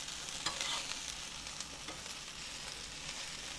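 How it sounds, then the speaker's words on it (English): Okra frying in a pan while being stirred, a steady soft sizzle with occasional scraping stir strokes, fairly quiet and close. "I'm going to keep stirring the okra and let the bottom come to the top and let the top get down next to the pan."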